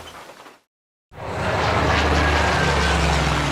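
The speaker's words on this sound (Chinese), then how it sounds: "66架日军飞机分2批飞临南京上空" Military aircraft fly over Nanjing during a 1937 bombing raid, a broad engine roar rising after a short silent gap and holding loud and steady, preceded by a fainter fading rumble.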